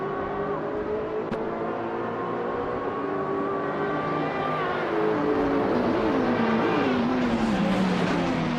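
Race cars, including a 2004 Chrysler Viper GTS, roar in a video game race: a continuous close engine drone whose pitch shifts and climbs as cars accelerate, with overlapping engine tones and no talking.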